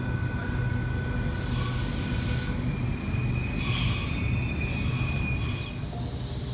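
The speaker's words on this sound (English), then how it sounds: "V32 is just about to depart platform number 2 for a Sydney Terminal service, stopping first at Blacktown." A Sydney Trains V32 electric train at Penrith platform 2, a steady loud rumble of rolling wheels with high metallic squeals rising and fading over it, heard up close.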